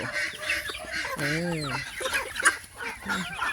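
Ducks waiting to be fed, a burst of close quacking and honking calls among scattered softer calls, with a person talking in between.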